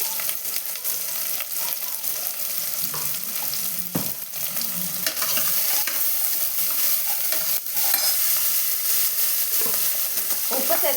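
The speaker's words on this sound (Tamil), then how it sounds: "இப்போ இதை ஆனியனை கொஞ்சமாக உப்பு சேர்த்து நல்லா வதக்கி எடுத்துக்கலாங்க." Onions sautéed with a little salt in a pan, a steady close frying sizzle with continuous scraping and stirring of a utensil across the pan, no voices heard.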